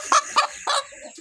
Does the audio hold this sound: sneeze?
no